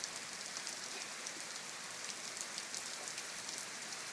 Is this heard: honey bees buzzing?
no